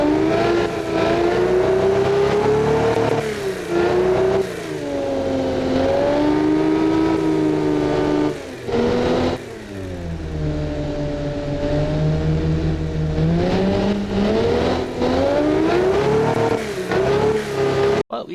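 A simulated car engine in the Automation game revs through its RPM range, a loud sustained drone with rising and falling pitch sweeps and brief dips between pulls, heard alone without talk.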